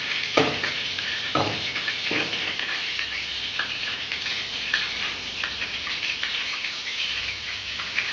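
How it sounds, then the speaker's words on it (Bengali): Gram flour batter for snake gourd pakora mixed by hand with small additions of water, giving a steady wet squelching and sloshing close by, with a few sharper slaps early on and no voices. "অল্প অল্প করে দেবো আর মাখাতে থাকবো আর অল্প পরিমাণ জল দেবো"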